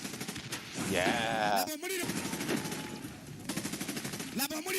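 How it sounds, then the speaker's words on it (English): Automatic gunfire and rocket launcher blasts from a video game trailer crackle in dense, loud bursts, with a brief voice heard amid the shooting. "look at how that gun shoots. Look at how that RPG shoots."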